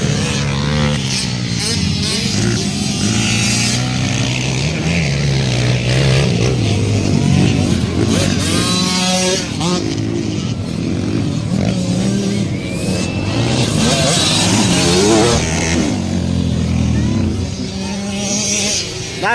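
Racing motorcycles at a race with Kevin Babas and Raisa competing, engines droning and revving continuously throughout, with a commentator talking over the track noise.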